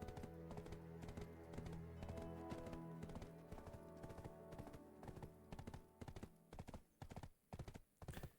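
Horse hooves clip-clopping in the video game Black Desert, a steady rhythmic beat that runs throughout and ends as a few separated, louder hoof strikes.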